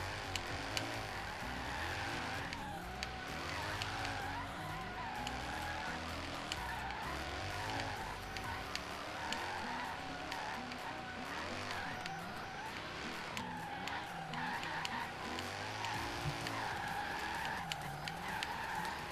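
Car drifting in Forza Horizon 3, a high-horsepower drift car giving a steady engine roar with sustained tire squeal and skidding throughout, loud and continuous with rising and falling revs.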